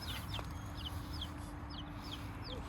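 Chickens cluck in short repeated calls over a steady low hum, several birds close by with no talk.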